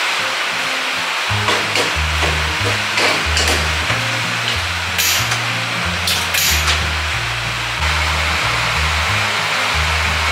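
Heavy rain roars outside during home cooking, a constant dense hiss that fills the background throughout, with low tonal hum and a few sharper spatters on top.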